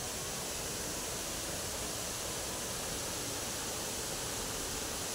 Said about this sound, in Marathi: हे इथून पाणी पडते आणि ह्याचा एवढा मोठा आवाज येतोय.